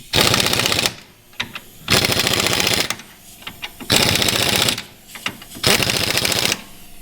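An impact wrench works on a shock mount of a 1957 Chevy, firing three loud, close, rattling bursts of about a second each, separated by short quieter pauses.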